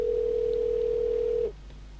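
Telephone dialing an outbound call through a CRM connector for Amazon Connect, a single steady tone that holds for about a second and a half and then cuts off, leaving low background hum.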